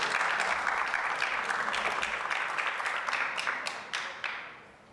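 Applause from guests at an anniversary gala luncheon, a broad, steady round of clapping from a large room that gradually tapers off toward the end.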